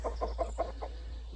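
Hens and roosters in a backyard flock of three hens and three roosters, giving a run of five evenly spaced clucks, fairly close and moderate in volume over a steady low hum, with no voices.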